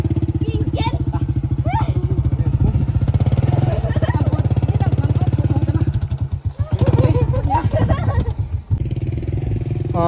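A motorcycle rides along a mountain road, its engine throbbing loudly and steadily close by throughout, with a voice faintly heard over the engine at times.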